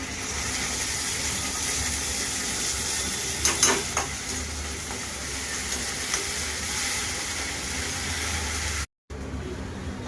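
Tomato puree paste goes into a pan of frying onion and capsicum for macaroni pasta, a steady close sizzle with a brief burst of stirring and scraping partway through, then a short cut before the frying resumes.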